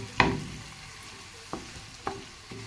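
Garlic, onion and tomato sautéing in a pan for chicken afritada, with a loud clatter at the start followed by a few sharper stirring knocks over a low, steady sizzle.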